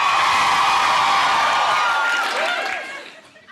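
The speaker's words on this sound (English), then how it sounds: "Listen to all the ladies screaming." A studio audience of women screams and cheers in a loud, sustained roar at a chat show, the cheering dense and continuous before tapering off near the end.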